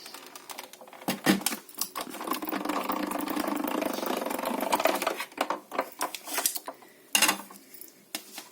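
Card base cranked through a die-cutting machine, a rumbling, grinding mechanical run lasting several seconds between sharper knocks and clacks of handling, close by, no talking.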